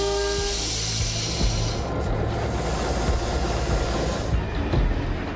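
Train running on an Australian main line, a loud steady rumble with a brief horn tone at the start, hissing air and rail clatter continuing close by.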